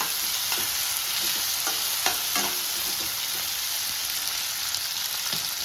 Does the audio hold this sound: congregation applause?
no